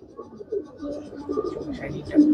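A female home-bred racing pigeon, entered in a 41-kilo five-side tournament, gives low soft coos close by, a steady murmuring run that swells near the end.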